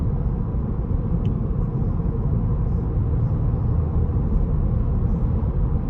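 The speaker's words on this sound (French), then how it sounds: "Il y a un petit bruit de roulement, alors ça peut venir des pneus" A used car under way gives off a continuous low tire-rolling rumble on the road, steady and moderately loud inside the cabin, with no speech over it.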